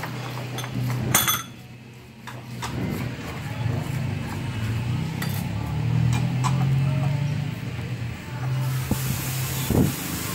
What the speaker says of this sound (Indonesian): Kita semprot dulu debu-debunya biar steril ya, biar agak bersihan.